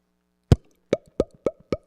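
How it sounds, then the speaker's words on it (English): A wine bottle being opened during a celebration, a single sharp pop followed by four evenly spaced, bright clinking or popping hits, close and clear with no talking. "open a bottle"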